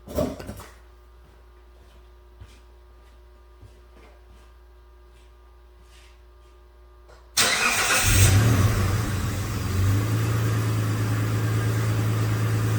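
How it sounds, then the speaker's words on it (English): After several seconds of near silence with faint ticks, the engine of a 2007 Mitsubishi Outlander that is hard to start after refueling cranks and catches loudly, then settles into a steady running rumble close by. "Start the engine."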